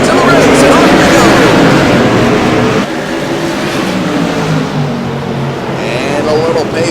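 CRA Modified race cars roar loudly at Thompson Speedway as the pack accelerates on a green flag restart, engines revving hard and close, with a commentator talking over the din.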